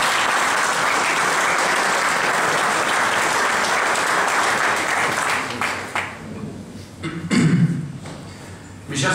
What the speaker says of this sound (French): On va maintenant écouter Damien Nicolas, on peut l'applaudir.